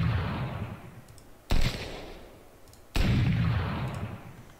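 Two booming, cannon-like revolver shots from a game weapon sound effect in Unreal Engine 4, each a sharp loud blast about 1.5 seconds apart, followed by a long rumbling decay.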